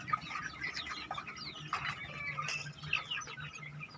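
A young rooster being raised for breeding making soft clucks and chirps in a farm setting, faint and scattered over a low background hum.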